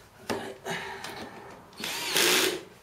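A power drill drives screws into a Euro guest bed frame during assembly, whirring in several short bursts that end in a longer, louder run.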